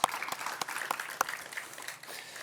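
Sparse, fairly faint applause at a ribbon cutting for a clean energy and renewable propane site, a few distinct claps standing out over a soft patter for about two seconds.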